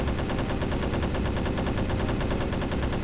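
Dense, rapid automatic gunfire from the video game Hidden & Dangerous 2 rattles continuously and loudly in a fast, even rhythm, with no pauses and no talking.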